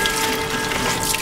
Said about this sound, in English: Get some water in here real quick.